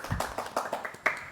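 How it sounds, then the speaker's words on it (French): Soft, quick fingertip claps, about eight light taps in a brisk even rhythm, close but quiet, with a faint voice in the background. "Tu applaudis, mais sur le bout des doigts."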